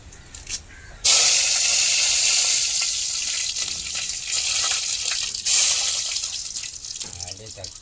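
Cinnamon bark dropped into hot oil sets off a sudden loud hissing sizzle that fades and swells again, with a voice speaking faintly over it.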